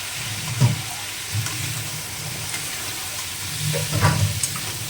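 Potatoes sauté in a pan with chopped chilli and ginger paste, a low continuous sizzle broken by a few soft stirring scrapes and bumps, close and moderately quiet.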